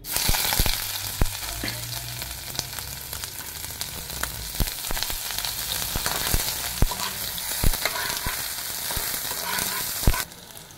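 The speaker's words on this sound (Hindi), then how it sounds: "सब्ज़ी बनाने के लिए डाल रही हूँ ऑयल, डाल रही हूँ कटी हुई प्याज" Chopped onion frying in hot oil in a pan for a mushroom vegetable dish, with a loud, constant sizzle broken by sharp spatula knocks and scrapes throughout.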